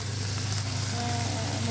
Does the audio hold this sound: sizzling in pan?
yes